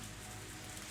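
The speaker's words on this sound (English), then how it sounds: "The sound of her calling me disappears beneath the sound of the rain." Steady rain in the visual novel game ONE: Kagayaku Kisetsu e, an even hiss of falling drops with no other sounds and no talk.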